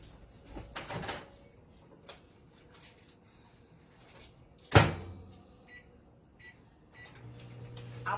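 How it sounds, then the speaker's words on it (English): Kitchen sounds around a microwave heating provolone cheese on a farm, with a sharp clunk like the oven door closing mid-way, soft beeps and a low hum afterward, fairly quiet and close. "I pop it in the microwave on about 10 seconds just to soften it up a little bit"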